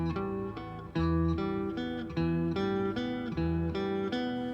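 Three notes of a minor chord picked one after another on guitar, repeated in clear, evenly spaced phrases that ring out close and full with no voices.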